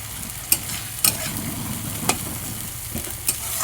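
Spices and tomato stir-fried in a pan, a continuous soft sizzle punctuated by several sharp spatula scrapes and knocks at irregular intervals, with no voices.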